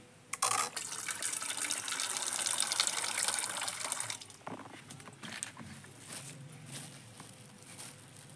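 Fish is washed under a running kitchen tap, with water gushing loudly at first and then a quieter trickle and splashing as it is rinsed, up close and without talk.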